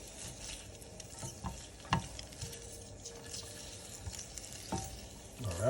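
Cooked fettuccine tossed in a pan of melted butter for Alfredo with shrimp, giving a steady soft sizzle with scattered stirring scrapes and clinks, close and moderately loud, without talk.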